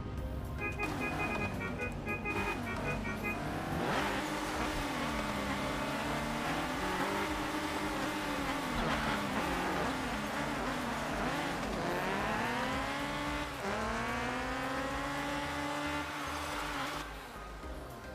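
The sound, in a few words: car racing in Car Parking Multiplayer video game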